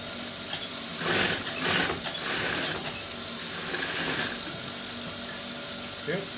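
Domestic sewing machine running in short bursts as it stitches fabric panels for a child's garment together with a half-inch seam, a close mechanical whirring and rattling with brief pauses, no talking.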